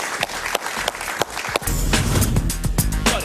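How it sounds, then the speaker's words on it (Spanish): Studio audience applause on a talk show, a burst of close clapping that starts scattered and swells into steady, dense applause. "Un aplauso para él, por favor."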